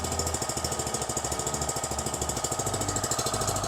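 A Cukusin 4-stroke 7.5 HP outboard motor runs steadily with a fast, even mechanical chatter, loud and close, with no voices over it.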